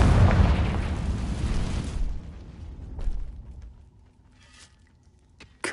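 Confringo fire spell explosion in Hogwarts Legacy: a loud, roaring boom that rumbles and fades over about two seconds, followed by quieter scattered crackles and pops.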